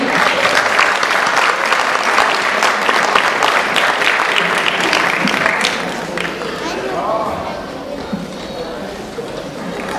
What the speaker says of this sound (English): All right, a big round of applause for Suren.